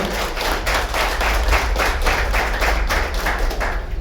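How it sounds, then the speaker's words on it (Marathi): An audience claps hard together after a speech on Chhatrapati Shivaji Maharaj, producing a dense, steady, loud patter with a faintly rhythmic pulse that lasts throughout, with no voices over it. "जोरदार टाळ्या वाजवा."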